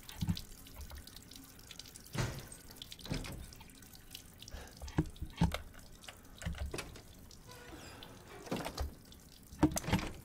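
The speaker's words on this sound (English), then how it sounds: "Wash the ring in the sink." Water runs from a tap into a sink in the Resident Evil Village video game, a faint steady trickle with scattered drips and light knocks, quiet and alone.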